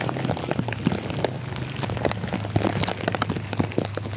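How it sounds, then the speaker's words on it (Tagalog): Heavy rain pouring on a mountain during Typhoon Carina, a dense, steady patter of drops striking surfaces close by, with no talking. "Sobrang lakas ng ulan sa bundok."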